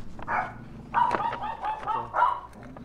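Several dogs bark in a residential neighborhood, with a few sharp barks and yips spread across the moment. They sound moderately near, with mixed tones that suggest more than one dog.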